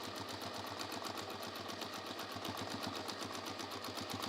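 A domestic sewing machine top-stitches a bag in a fast, even, continuous whirr with a regular needle tick, heard alone and fairly quiet at close range.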